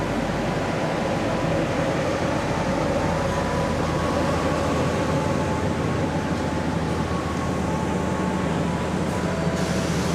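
KA Mataram, an Indonesian passenger train on the Jogja–Jakarta route, rumbling steadily at a station with a constant broad, loud noise throughout and no talk.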